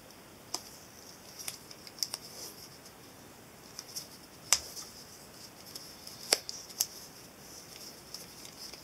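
Wire leads being snipped with scissors while assembling a 62 kHz high-power switching supply: several sharp, quiet clicks scattered irregularly through a quiet room, two of them a little louder, with no talking.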